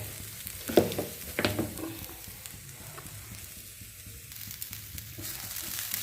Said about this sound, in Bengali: নারকেলটা একটু ভাজা ভাজা করে নিলাম।